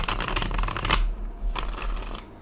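A deck of tarot cards is shuffled close up in a quick riffle of crisp flutters, a short pause, then a second softer burst of card shuffling.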